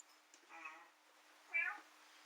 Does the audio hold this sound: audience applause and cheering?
no